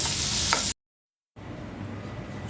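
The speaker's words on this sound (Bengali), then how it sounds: "আর দুইটা বেগুনও ভেজে নিচ্ছি" Eggplant slices frying in a pan hiss with a steady, close sizzle, broken by a short complete silence before the frying sound resumes a little quieter.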